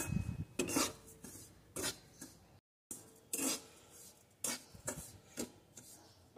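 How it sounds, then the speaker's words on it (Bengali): Rice flour sweets being stirred and fried in a pan for a danadar-style dessert, with a spatula scraping the metal in short, repeated strokes and brief pauses, fairly close and alone. "অল্প আছে এইভাবে আস্তে আস্তে নেড়ে সুন্দর করে ভেজে নেব।"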